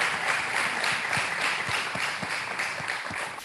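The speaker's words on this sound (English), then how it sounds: "I think we should clap." Applause breaks out at a city council meeting: a steady wash of many hands clapping at once, moderately loud and sustained without pause for a few seconds, with no voices on top.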